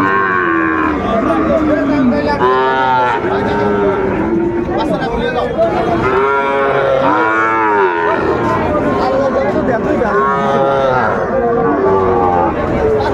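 A Sahiwal bull calf moos repeatedly at a busy Comilla cattle market, with loud, drawn-out calls rising over the steady chatter of a crowd and people talking nearby throughout.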